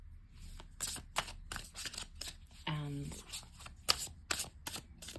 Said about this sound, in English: It riffles. And I will pull a card.